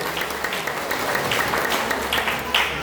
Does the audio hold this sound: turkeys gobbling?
no